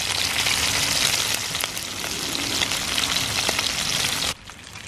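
Iguana meat browns in a frying pan with a dense, steady sizzle and crackle that runs continuously, then drops abruptly quieter near the end; no one speaks.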